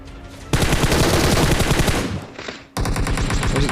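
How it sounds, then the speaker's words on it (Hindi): Scoped rifle fire in the battle-royale video game PUBG, a loud, dense burst of rapid automatic shots that fades briefly, then resumes with another fast run of close reports. "तो मैं इसके ऊपर 3x से रैंडम फायर करके इसको फिनिश कर देता हूँ।"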